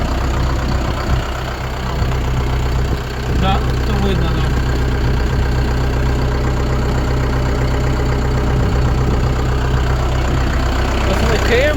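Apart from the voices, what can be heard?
tractor engine idling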